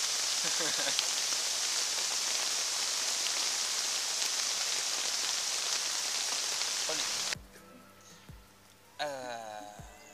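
Heavy rain falls onto water during a fishing session, a dense, close, steady hiss of drops for about seven seconds before it cuts off to quieter background and brief voices, then the rain noise partly returns.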